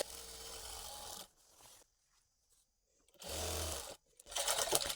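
A sewing machine stitching the side pocket of a half-collar uniform dress, running in short close bursts with brief pauses and quiet handling between runs.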